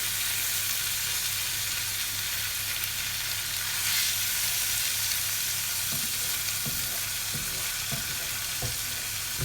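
Tomato paste frying with cinnamon and cloves in a pan for moussaka, a steady dense sizzle with occasional soft stirring scrapes and knocks, close and continuous without talk.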